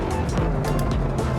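A torquey hatchback's engine driving hard on a track lap, a continuous loud low drone with rising and falling rumble and wind noise, heard from inside the cabin.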